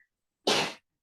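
A single short sneeze from a person during a quiet breathing and stretching class, close and fairly loud against near silence.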